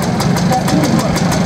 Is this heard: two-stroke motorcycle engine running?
yes